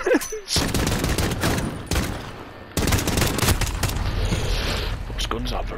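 Rapid automatic gunfire bursts from Call of Duty: Modern Warfare, loud and dense across the stretch with brief gaps between volleys, mixed with some voice activity.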